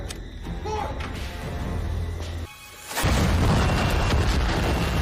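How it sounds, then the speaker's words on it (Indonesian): A deep boom erupts as a character blows himself up among zombies, a heavy low rumble swelling after a short lull, with earlier dramatic film sound and a voice beneath. "Setelah Ford meledakkan diri bersama para zombie"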